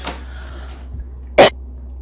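A person recording a podcast coughs once, a short, sharp, close burst, after a fainter breathy sound at the start, with quiet room tone between.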